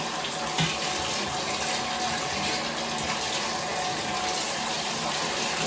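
Lukewarm water runs steadily from a tap over trumpet slides and parts as they are rinsed, a close, continuous splashing gush with no talking.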